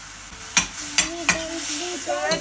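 Mushrooms sizzling and browning in a pan for tortiglioni, a steady loud frying hiss broken by three or four sharp scrapes of a stirring utensil against the pan, with a voice briefly audible.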